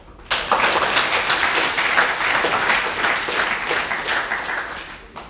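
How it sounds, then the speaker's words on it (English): A large audience applauds at a medical school white coat ceremony: a dense, loud wash of many hands clapping that starts abruptly and holds steady for several seconds before easing slightly. "give yourselves a round of applause for getting to this point"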